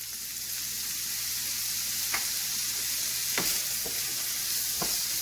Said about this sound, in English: Now that we have all this green bean in here, we're going to add a 1/4 cup of soy sauce.